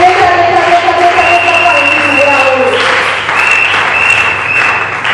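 A church congregation applauding and acclaiming, with sustained loud clapping and voices crying out throughout, and a preacher's voice heard over the crowd.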